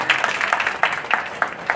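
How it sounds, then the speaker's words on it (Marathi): Audience clapping at a Women's Day award and publication event, scattered claps building into a fairly close, moderate round of applause with no talk. "खरं म्हणजे तुम्ही स्वतःसाठी जोरदार टाळ्या वाजवा पहिल्यांदा."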